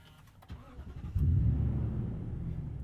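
A 5.7-liter V8 engine in a Toyota Tundra TRD Pro pickup cranks briefly and then catches, settling into a loud, steady low rumble that continues to the end.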